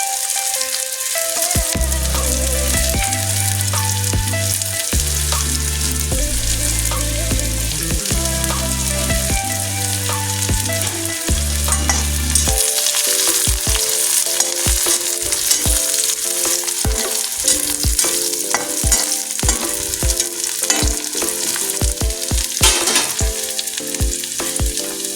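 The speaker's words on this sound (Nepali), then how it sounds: "यसलाई चलाऊ। एकछिन पाक्न दिउँ प्याजलाई रातो हुन्जेल।" Onions fry and are stirred in a pan for spicy noodles, giving a loud, continuous sizzle under steady background music with occasional stirring clatter.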